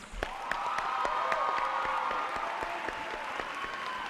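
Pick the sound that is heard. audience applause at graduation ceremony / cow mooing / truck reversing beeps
audience applause at graduation ceremony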